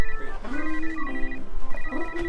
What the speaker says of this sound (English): Phil, Phil, Phil, Phil, Why is your shell ringing?